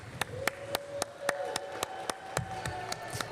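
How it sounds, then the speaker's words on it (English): Sharp, evenly spaced claps ring out at an H2GP Girls in STEM hydrogen model car race event in Switzerland. There are about a dozen crisp hand claps at a steady pace over a low hum of voices. "one more big round of applause for our friend Steph."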